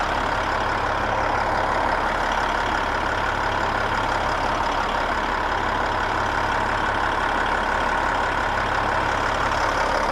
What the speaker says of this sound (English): My AC compressor, the clutch should be spinning.